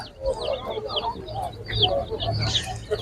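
Young Leghorn and Lohmann Brown chickens cluck and chirp in a busy, close cluster at an animal market in Nadvirna, Ukraine, overlapping with a murmur of background voices.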